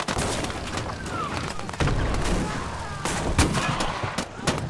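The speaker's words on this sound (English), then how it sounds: "Whoa, there's a lot of explosions." Rapid gunfire and booming explosions in Gates of Hell, with repeated sharp shots cracking over a dense, continuous rumble of battle at an abandoned factory.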